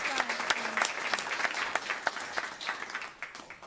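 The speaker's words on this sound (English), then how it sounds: "You can applause too." Audience applause fills a school board meeting room, brisk steady clapping with a few sharp nearby claps and a faint voice under it.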